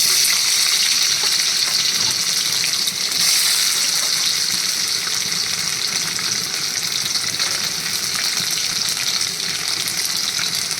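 Paneer frying in hot oil in a kadai, a loud, continuous, close sizzle with bubbling spatter holding steady throughout.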